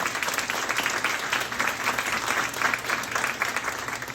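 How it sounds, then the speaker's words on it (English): Steady audience applause at a school board meeting, dense clapping from a crowd that holds at an even level throughout, with no pauses or voices standing out. "let's give them a big round of applause"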